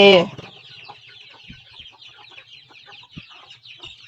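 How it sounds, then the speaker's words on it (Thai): Domestic chickens being fed cluck softly and repeatedly close by, with one louder squawk at the start and scattered chatter from the flock. "ให้อาหารไก่ค่ะ"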